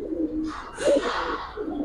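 Pigeons coo at close range, a low throaty warbling that rises and falls in soft repeated phrases with a little rustling around them.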